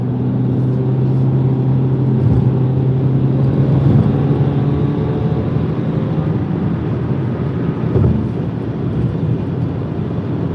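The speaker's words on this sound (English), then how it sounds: "I don't know why I like that sound that the car makes" A steady video game car engine drones throughout, a low hum with shifting pitch, swelling briefly around the middle and again near the end, no voices.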